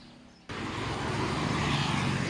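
A heavy water truck's engine roars up suddenly and stays loud and broadband, rumbling steadily as it drives off close by, in Rawai, Phuket.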